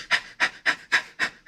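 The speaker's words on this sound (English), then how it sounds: "You're just panting for like treat anticipation." A dog named Zoe pants rhythmically, six quick, evenly spaced breaths heard close up with brief silent gaps between them.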